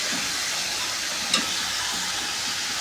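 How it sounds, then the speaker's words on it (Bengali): Yardlong beans frying in a pan give a steady, loud hiss and sizzle, with one brief clack of a spatula partway through and no voices. "এখন ভাজা ভাজা করে নিতে হবে"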